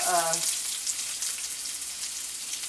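Yellow onions sizzle and fry steadily in a hot pan for fajitas, a loud continuous crackling hiss close by, with a brief voice at the very start.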